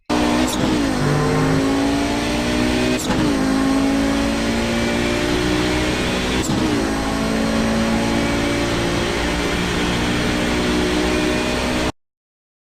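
An Audi 90 GTO race car engine at full throttle in iRacing at Mid-Ohio, a loud sustained roar that rises in pitch through each gear, with sharp upshift breaks near the start, around three seconds and around six and a half seconds.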